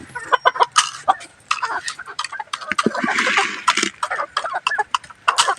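Native chickens cluck and squawk close by in a rapid, irregular series of short calls, with a louder flurry of overlapping clucks in the middle and no talking.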